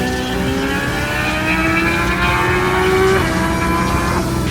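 Drag race car launching at full throttle, a loud sustained engine roar with rising pitch through the gears, one shift break near the end, heard close and alone.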